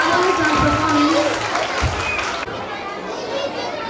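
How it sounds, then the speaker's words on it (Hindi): At a school Republic Day celebration, an audience claps and chatters. A voice speaks over the noise at first, and then a fainter spread of applause continues alone. "जोरदार तालियां हो जाए।"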